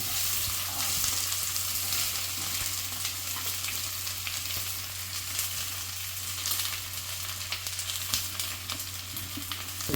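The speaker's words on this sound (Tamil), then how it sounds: "இது வணங்குறது" Chopped onions and garlic frying in hot oil for a semi gravy, a steady close sizzle and crackle with occasional stirring and no talk.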